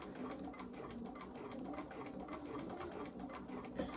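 Sewing machine stitching a straight seam along a folded edge of fabric, guided by the presser foot, a steady close mechanical whir with fine rapid needle ticks running evenly throughout.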